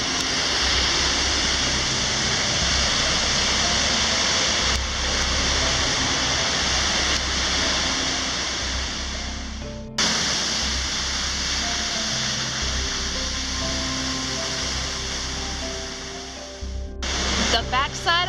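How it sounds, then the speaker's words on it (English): South Falls at Silver Falls, a large waterfall on a hiking trail, roaring as a loud continuous broadband rush close by, with brief interruptions and a few scattered bird chirps. "This is South Falls, and this is waterfall number 1 on our hike."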